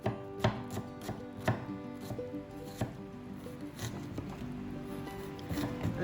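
A knife chops red onion for a Vietnamese beef and green mango salad, a quick run of crisp, close thuds on a board, irregular but steady, with no voices.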